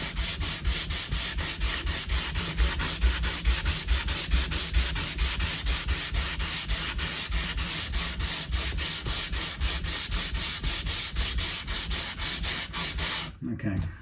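Hand sanding a guitar body with 180 grit sandpaper, a close, continuous rapid back-and-forth rasping scrub with a fast steady rhythm, alone without talk, stopping near the end.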